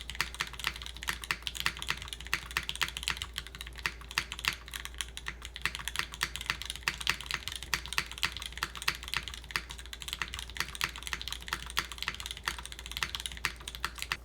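Steady, continuous typing on a Dolch TKL mechanical keyboard resting on a leather desk pad, with dense, rapid clacky keystrokes at close range throughout and no voices.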